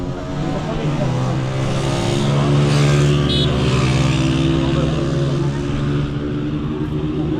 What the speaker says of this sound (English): And this is the tuk-tuk.